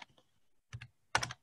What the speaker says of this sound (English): I'm gonna type in any video converter,